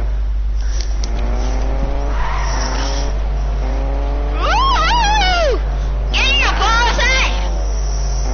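A red car drives in the Fortnite video game, with a loud steady engine drone under rising, wailing revs and squealing tire sounds that surge in two bursts toward the end.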